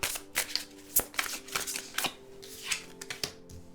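A deck of tarot cards is shuffled close up, giving quick bursts of riffling and snapping flicks in an uneven rhythm.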